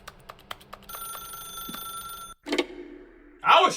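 A telephone rings in The Stanley Parable Ultra Deluxe, a loud electronic bell tone held for over a second after soft taps, followed by clicks and a brief voice at the end.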